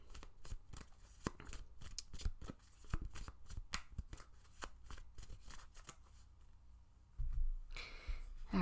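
Tarot cards being shuffled by hand in quick, crisp riffling bursts that repeat close and clear, with a short pause near the end before a louder shuffle; no one speaks.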